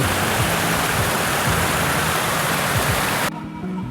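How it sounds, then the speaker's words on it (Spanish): The Nezahualcóyotl fountains in Chapultepec Forest, Mexico City, send out a loud, steady rush of splashing water that cuts off abruptly near the end, leaving a quieter ambient hum. "Y sí, estas son las famosas fuentes de Nezahualcóyotl."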